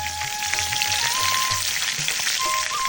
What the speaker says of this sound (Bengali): এখন মাছ ভেজে নেওয়া হচ্ছে কারণ ভেজে মাছ রান্না করলে কিন্তু আলাদা একটা মজা আছে